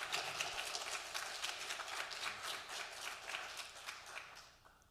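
Sustained applause from a seated audience at a library talk, dense and steady clapping throughout, fading slightly at the end.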